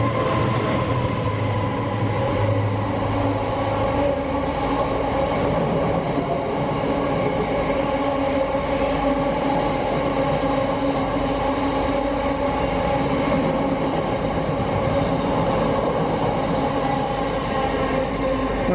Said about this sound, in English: There's a test train behind there.